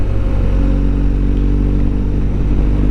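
A BMW 1250 GS Rallye motorcycle pulls hard from low revs, its boxer engine giving a loud, deep, throbbing drone that stays steady and close, with no talk over it.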